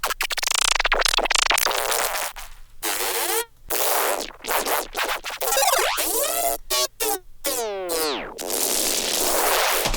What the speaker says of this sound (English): we've got these bass delay grains on top of this